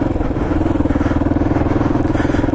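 A motorcycle being ridden gives a loud, close, steady engine drone with a rapid pulsing beat throughout.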